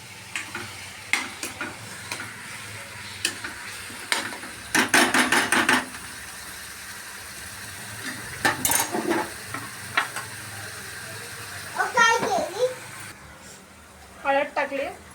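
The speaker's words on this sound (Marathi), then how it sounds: "कांदा टोमॅटो फ्राय होतोय" Onion and tomato fry in a pan with turmeric, giving a soft steady sizzle broken by scraping stirs and occasional clanks of a spoon against the pan; faint voices and chirps sit in the background.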